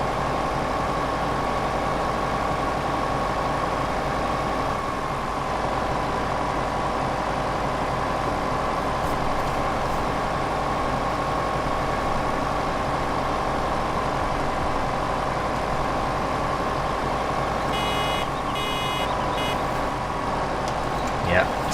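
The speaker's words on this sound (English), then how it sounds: "Nice multi-purpose tractor." A multi-purpose tractor engine that can carry a front loader runs in Farming Simulator 2015, a steady low idling drone throughout with someone talking over it.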